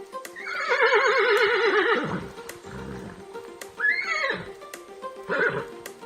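A horse on a farm lets out a long, loud, quavering whinny, followed by two shorter neighs after brief pauses. Faint knocking sounds come in between the calls.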